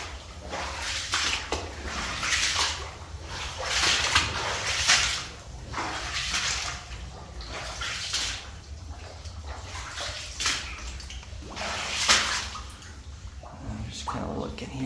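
Someone wades through muddy water inside a historic 1902 abandoned antimony mine, with steady sloshing and splashing close by, rising and falling with each stride and continuing throughout.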